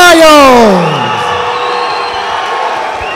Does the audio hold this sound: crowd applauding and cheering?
yes